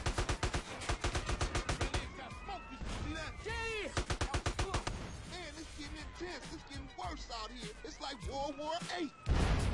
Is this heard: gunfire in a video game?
yes